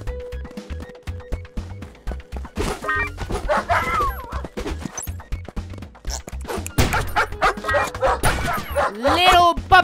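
Cartoonish puppies yip and bark in the Juicy Realm video game amid whacks and crashes of combat, with someone talking excitedly over the repeated short barks.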